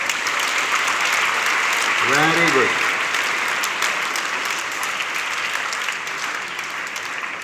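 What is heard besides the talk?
audience applause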